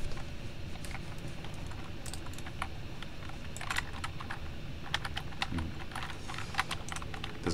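Typing on a computer keyboard, close and clear, with uneven bursts of clicking keystrokes and short pauses between them, and no voices.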